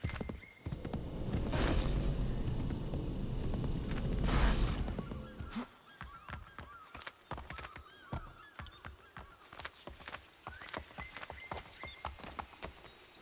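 A horse in a video game walks over rocky terrain, its hooves clip-clopping in a steady, uneven patter after a louder burst of rushing movement at the start. The hoofbeats are moderately close, with no talk.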